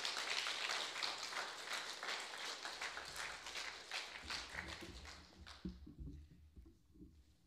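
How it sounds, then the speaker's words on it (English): An audience claps at a secondary school end-of-year award presentation: a dense, fairly faint patter of applause that holds steady for several seconds, then thins out and fades. "Let's give these boys a round of applause."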